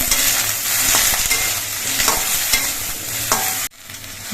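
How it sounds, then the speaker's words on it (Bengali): Okra frying in a little oil and being stirred, a steady close sizzle with scraping stir strokes, briefly cutting out near the end. "ঢেঁড়সগুলো আমি খুব অল্প তেল দিয়ে ভেজে নিচ্ছি"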